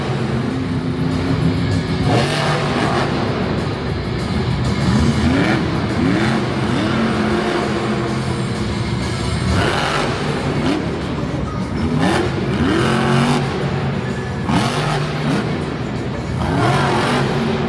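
Scooby-Doo monster truck at a Monster Jam event in Lyon, France, its engine revving loud and hard through a wheelie and combo, with repeated rising and falling throttle surges over steady arena noise.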